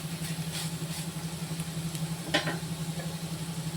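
Papaya flowers sautéing in a pan over a low flame, a soft, quiet sizzle with gentle stirring scrapes, a low steady hum of the stove beneath and one brief clatter near the end.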